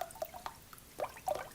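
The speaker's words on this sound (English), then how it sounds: "I loved the sounds the water made." Water poured from a tap into a pot holding about 18 eggs for boiling, a soft close trickle with a few faint drips and splashes, quiet and alone.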